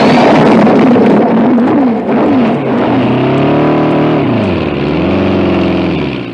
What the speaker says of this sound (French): Ce pilote qui prend le départ pour un tour d'essai